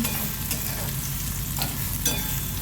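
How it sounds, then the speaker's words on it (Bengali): Garlic being stirred in mustard oil in a wok: a steady, close sizzle with a few scraping stirs of the spatula, no talking. "সরষের তেলে বেশ খানিকক্ষণ নাড়িয়ে নেবো আমি ওই রসুনখানা"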